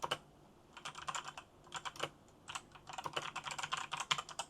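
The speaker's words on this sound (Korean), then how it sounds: "이런 식으로 타자거든요." Quiet keyboard typing in short bursts of rapid keystrokes separated by brief pauses, close by in an otherwise still room.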